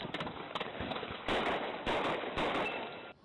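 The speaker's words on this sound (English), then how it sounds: "Dolton police say both officers opened fire on Wilson." Police officers in Dolton open fire at a fleeing car, a rapid series of loud sharp cracking gunshots in bursts, with several heavier blasts clustered in the second half.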